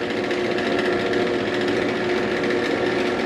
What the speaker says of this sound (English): I run through with the regular drill bit